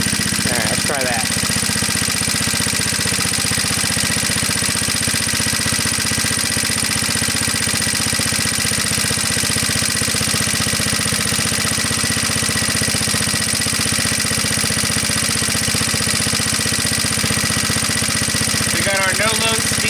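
Antique Onan PE-88 Signal Corps generator engine running steadily at no-load speed, a continuous, even mid-pitched drone with strong vibration, held for the whole stretch with faint speech underneath.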